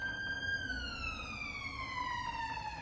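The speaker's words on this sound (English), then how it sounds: "It's an ambulance coming, by the way." A passing ambulance's wailing siren holds a long, slowly falling tone, loud and close over faint traffic rumble.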